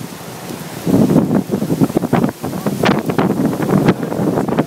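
Gusty wind buffets the microphone during a windy outing, with loud, uneven low rumbling bursts that swell and drop repeatedly throughout.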